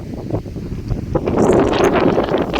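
Strong wind roars and buffets loudly, gusting up partway through into a dense, rushing blast.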